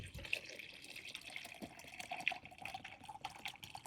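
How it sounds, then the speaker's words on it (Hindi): Liquid poured out of a one-litre container while preparing a feed for chrysanthemum plants, producing a faint, steady trickle and splash with no one speaking. "ये जो डब्बा 1 लीटर का है, इसमें से आधा लीटर हम निकालेंगे।"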